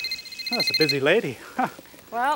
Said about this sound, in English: Well, is that your phone?